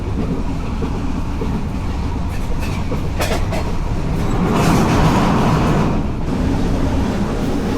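Inside a passenger train travelling at speed at night from Dhaka Airport station to Natore: a loud, steady rolling rumble with scattered rail clacks, heard from within the carriage.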